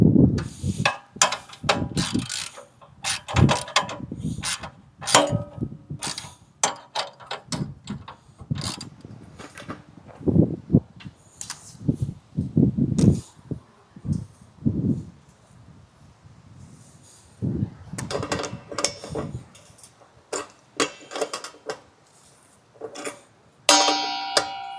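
A socket wrench ratchets in repeated short bursts while screws are tightened on the bracket of a 13-foot solar light pole, with clicks, pauses and metal knocks close by.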